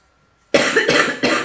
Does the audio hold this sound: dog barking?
no